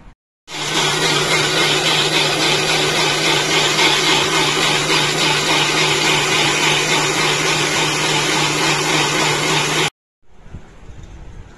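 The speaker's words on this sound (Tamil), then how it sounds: "ஸோ இப்போ இது எல்லாத்தையுமே நம்ம பிளெண்ட் பண்ணி எடுத்துட்டு வந்துடலாம்" A kitchen blender grinds herbal hair pack ingredients into a fine paste, a loud steady whirring roar that starts abruptly, runs for about nine seconds and cuts off, followed by quieter background noise.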